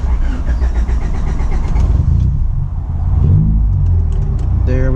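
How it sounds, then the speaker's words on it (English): A manual car's engine cranks on the key and catches, settling into a steady close idle rumble, with a voice talking over it partway. "When you turn on a manual car, you're gonna press the clutch all the way in and turn the key."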